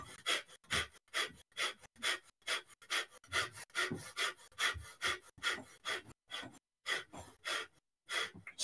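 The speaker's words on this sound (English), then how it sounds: "3, 2, 1, breath of fire." Rapid breath of fire breathwork: forceful, rhythmic nasal exhalations repeat steadily at about two per second, close and loud, with brief pauses near the end.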